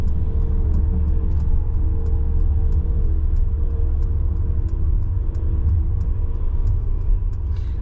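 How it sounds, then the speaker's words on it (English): Inside a Mercedes EQS electric car while braking and driving, a steady low road rumble fills the cabin, with faint, evenly spaced ticks running throughout. "I'm going to put on the brakes."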